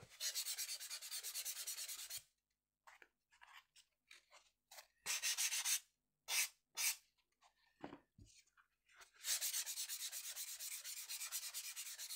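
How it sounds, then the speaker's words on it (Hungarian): Foam core being worked with a sanding tool, several bursts of dry rubbing and scraping with short pauses between strokes, close and fairly loud, no talking. "És most fogjuk a fánykcsiszolót, és összedolgozzuk vele."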